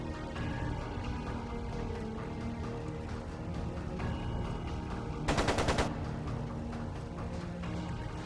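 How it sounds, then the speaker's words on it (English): A short, rapid machine-gun burst rattles out from the battle in Trails of Cold Steel II, standing out loud and close against a steady background of game music and ambience. "It sounded like a machine gun."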